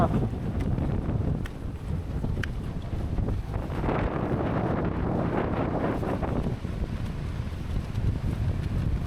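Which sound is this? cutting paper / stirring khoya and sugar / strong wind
strong wind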